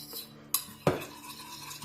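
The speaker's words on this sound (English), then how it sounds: "I just keep on stirring it until I have a little bit thicker consistency" A utensil scrapes and clinks in a container while stirring a thickening melted whipped-wax mixture for a candle, with two sharp close knocks among quiet stirring sounds.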